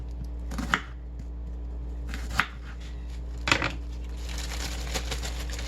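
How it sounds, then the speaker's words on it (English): A knife cutting through a yellow onion on a board, a few sparse, quiet chops spaced a second or more apart over a low steady hum. "Next, I'm going to cut up just a little onion."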